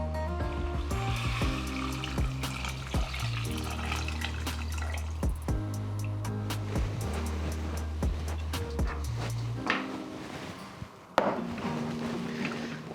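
Chicken stock is poured into a pot of potato and leek soup as a continuous, close liquid pour over a low hum, ending after about ten seconds with a single knock afterward.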